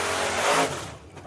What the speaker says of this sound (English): Here's the sound of that truck, Greg.